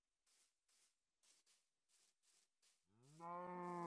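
Cows mooing in the Minecraft video game: a series of short, breathy bursts in an uneven rhythm, then a long, loud, tonal moo at the end, with no talk.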